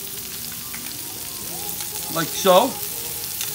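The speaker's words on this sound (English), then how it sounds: "as you put your butter and your wine, you want to use a hot pan, just like so." Butter and wine sizzle in a hot pan while preparing chicken francaise, a steady close crackle with a brief voice partway through.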